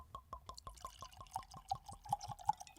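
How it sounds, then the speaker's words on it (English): Chris Stapleton's whiskey poured into a glass, a quiet close glugging stream of rhythmic liquid pulses that quickens and rises in pitch as the glass fills. "Let's get us a good pour here."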